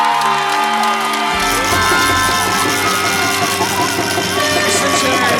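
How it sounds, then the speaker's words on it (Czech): An audience at an award ceremony for the winning teams bursts into applause and cheering after a sustained tone, the clapping dense and steady for several seconds. "Pojďme jim zatleskat!"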